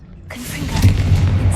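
A blasting spell explosion in Hogwarts Legacy: a sudden deep boom that swells into a sustained low rumble and crackle, loud and close, with a voice faintly underneath.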